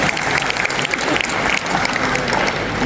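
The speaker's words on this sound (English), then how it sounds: "let's give them a big round of applause" A crowd at a technology expo breaks into a dense, loud round of applause, continuous clapping and cheering noise filling the whole moment without a pause.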